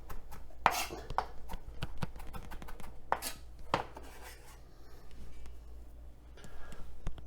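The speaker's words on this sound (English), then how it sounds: "You notice how I'm cutting into the stems." A knife slicing through green onion stems on a cutting board: scattered sharp, crisp chops and taps, close but soft, irregularly spaced with quiet gaps between.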